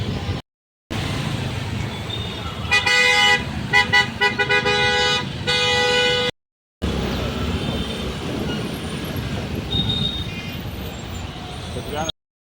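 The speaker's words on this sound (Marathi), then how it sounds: "त्यामुळं पूर्ण नगर रोड जाम झालेला आहे गाईज. एवढं भयंकर ट्रॅफिक आहे" Heavy traffic jam on Nagar Road, with several car horns tooting in bursts over a steady, loud street rumble; a short dropout breaks the sound midway.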